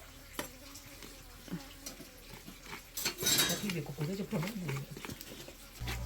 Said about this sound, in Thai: มีแม่กับคุณป้าช่วยขูดเนาะ